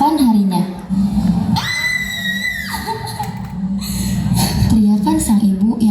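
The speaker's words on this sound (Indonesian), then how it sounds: "teriakan sang ibu yang sangat keras memecah lamunan Jinggo" A mother screams loudly in a home, one sustained shrill cry lasting about a second amid a noisy background with other voices talking around it.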